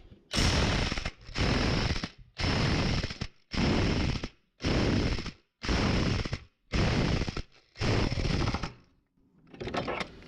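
An impact gun rattles in eight loud, close bursts of about a second each, with short gaps between them, while loosening a bolt on a 2004 Ford Escape 3.0 engine.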